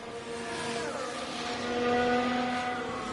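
An F1 car in the F1 Manager 24 racing game pulls out of the pit lane, its engine a steady, fairly loud drone with gently rising pitch over a few seconds, with no talking.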